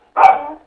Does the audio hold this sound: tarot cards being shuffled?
no